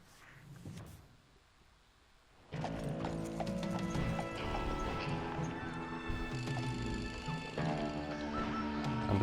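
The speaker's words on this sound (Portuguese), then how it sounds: "Um monte de cavalo pra ajudar a gente." A posse of horses gallops in the Call of Juarez Gunslinger video game: loud, dense clip-clop of many hooves with a whinny, rising sharply after a quieter opening and continuing steadily to the end.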